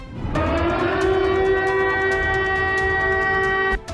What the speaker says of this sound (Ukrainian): Новий український тренд затяжні повітряні тривоги.